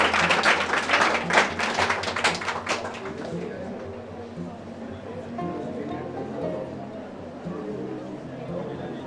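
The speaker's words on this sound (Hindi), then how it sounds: "एक बार इन सभी स्टूडेंटों के लिए एक बार जोरदार तालियां हो जाए" A ceremony audience applauds students for two or three seconds, a loud, dense patter of clapping that fades out, followed by a quieter hall with low murmuring voices.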